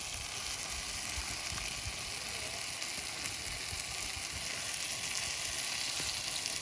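Butter sizzles and crackles in a hot pan, a steady, dense frying hiss that carries on without a break, close and fairly loud.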